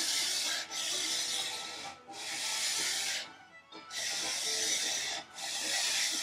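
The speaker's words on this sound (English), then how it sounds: "And this is a great long sanding block." A long sanding block rasps back and forth across the tongue-and-groove wood of a woodie car in long, steady strokes, four or five passes with brief pauses at each turn.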